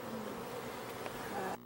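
Continuous buzzing of many honeybees up close during a swarm demonstration, a steady drone with a sharp cut near the end.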